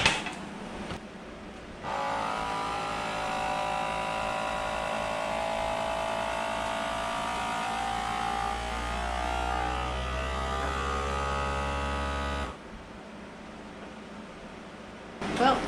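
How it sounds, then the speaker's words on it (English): A vacuum sealer sealing a bag: a steady motorized hum with a low droning whine runs for about ten seconds, rising slightly in pitch toward the end before cutting off abruptly. "Now we'll just throw it in a bag, vacuum seal it up."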